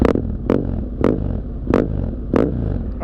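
A rare heavy motorcycle engine revs in five sharp, evenly spaced bursts, each a loud roaring blip that drops back to a rumbling idle between them, close to the microphone with no talk.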